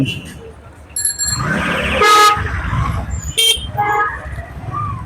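A pickup van turning into a narrow, jammed city street gives two short horn toots amid idling traffic, with people talking nearby.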